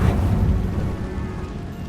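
The Bombarda blasting spell goes off in Hogwarts Legacy: a loud, low booming explosion that hits at once and then rumbles away over about two seconds.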